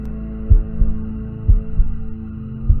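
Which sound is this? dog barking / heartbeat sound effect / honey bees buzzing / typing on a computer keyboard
heartbeat sound effect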